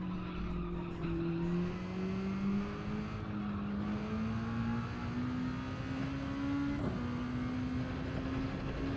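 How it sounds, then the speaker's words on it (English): A race car in Gran Turismo holds a steady, droning engine note that climbs slowly in pitch, with tyre squeal and road noise running continuously underneath. The sound is close and loud, and there is no talking. "Revving out."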